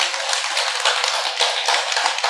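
Applause from the audience at a workshop: a steady, continuous wash of clapping from many hands, moderately loud and unbroken, with no talk.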